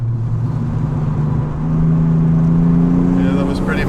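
A car's engine pulls hard under light throttle, a steady drone that rises in pitch as speed builds, heard from inside the cabin.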